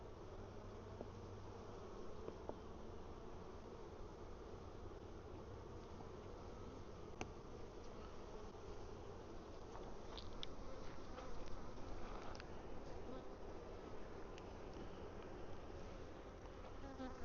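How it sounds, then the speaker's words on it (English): Honey bees swarm densely around an open beehive while honey supers are checked, a continuous close, even buzzing drone with no talking. "There's a lot of bees in it though."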